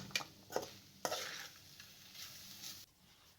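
Potato and keema filling with onions and green chillies being mixed with a masher in a pan: a few sharp scraping knocks and soft stirring rustles, quiet and close, with no voices.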